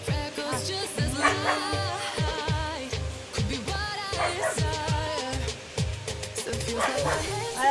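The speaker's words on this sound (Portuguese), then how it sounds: "aí tem os cachorrinhos aqui no quintal, aí fica fazendo esse barulho" Several small dogs in a home backyard bark and yip repeatedly in quick, overlapping bursts, fairly close and loud, with occasional whimpers and some speech mixed in.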